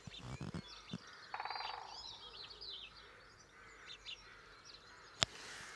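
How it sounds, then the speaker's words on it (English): House sparrows chirping around an occupied nest box on a coastal path, faint scattered chirps and short calls at a distance over soft outdoor background noise, with a couple of brief sharper sounds. "There's a nest box here with house sparrows in it."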